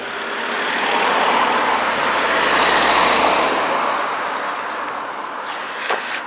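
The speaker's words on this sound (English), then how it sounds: "lots of traffic coming" A vehicle on a narrow village lane in Spaxton swells into a broad whooshing roar as it passes close by, then fades away, leaving faint background hum.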